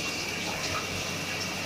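A shower runs in a steady, loud, unbroken stream while an American bully dog is being bathed, with rushing water filling the short stretch and no voices.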